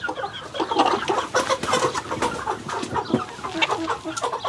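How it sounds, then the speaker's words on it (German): Rooster on a farm clucking and squawking in agitated, repeated bursts while being caught, close and loud with scuffling in the background. "jetzt holen wir mal den schönsten Hahn"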